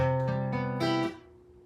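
A guitar chord picked one string at a time from low to high, notes ringing together into a full chord, then fading out alone.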